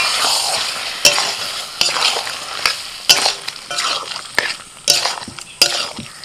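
Mutton with masala paste being stirred and fried in a kadai, a steady close sizzle broken by repeated sharp scrapes and clanks of the spoon against the pan at an uneven rhythm, with no talking.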